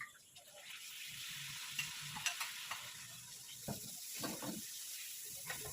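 Vegetables and spices sizzling and frying in a pan for chicken manchurian, a soft constant hiss broken by scattered stirring scrapes and clinks, fairly quiet and close.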